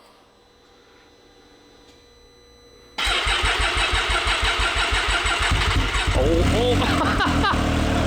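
A nitrous-powered Can-Am X3 side-by-side with dry fuel lines cranks briefly, then fires and catches, settling into a loud, lumpy, pulsing idle up close, with a short spoken exclamation.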